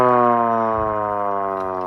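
A 3D-printed eight-port air raid siren wails close and loud, its rich harmonic tone held steady and slowly sliding down in pitch for about two seconds as it winds down.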